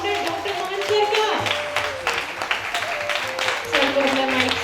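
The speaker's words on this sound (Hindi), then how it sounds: "जोरदार तालियों से स्वागत कीजिए हमारे सीईओ" Loud applause from an event audience welcomes the CEO and founder at a youth transformation programme, with dense, sustained clapping throughout, mixed with music or voices over a public-address system.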